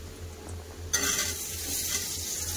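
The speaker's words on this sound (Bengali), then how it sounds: "এবার কেটে রাখা আলু দিয়ে দেবো" Cut potatoes drop into a pan of already fried onions, and a sudden loud sizzle starts, then keeps going as a steady close frying hiss with faint stirring, after a quiet low hum beforehand.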